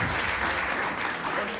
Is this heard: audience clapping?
yes